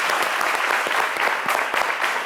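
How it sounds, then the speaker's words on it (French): A studio audience applauds on a French midday talk show, a loud, dense burst of clapping that stays even and sustained for the whole stretch with sharper individual claps poking through. "on va vous applaudir encore une fois"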